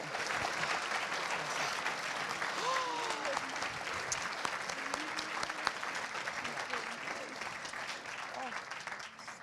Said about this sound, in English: So let's give our panelists one round of applause as they make their way down to their seats.